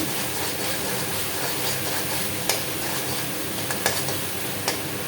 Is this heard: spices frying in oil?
yes